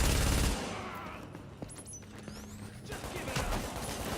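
Gunfire in The Division, a loud burst at the start followed by scattered shots and rattling bursts further off, with brief ricochet-like whines in between.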